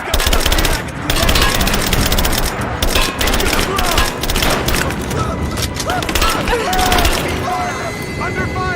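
Dense, rapid gunfire from the video game Shadow of the Tomb Raider, with continuous loud automatic bursts and booms throughout and shouting game voices mixed in.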